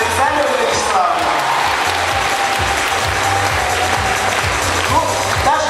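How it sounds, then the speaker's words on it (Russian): An audience applauds a concertmaster at a stage performance by a theatre ensemble. Steady, loud, continuous clapping fills the hall from start to finish, with a few faint voices and shuffling underneath. "Поаплодируйте Ольге Вячеславовне"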